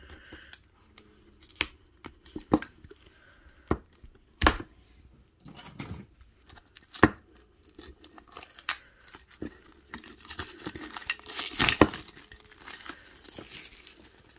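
A Funko Soda can's packaging is slit and torn with an X-Acto knife, heard as a close series of sharp scratching cuts, tearing and crinkling bursts in an irregular rhythm.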